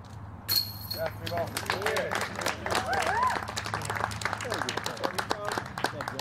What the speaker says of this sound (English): Crowd's gonna erupt if he makes it.